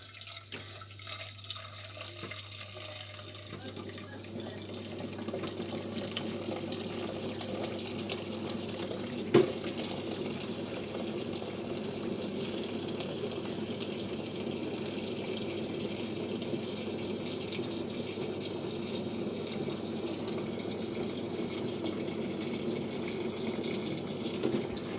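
Water from a kitchen tap runs steadily into a sink for a long stretch, with a soft, even rushing hiss and a brief knock partway through.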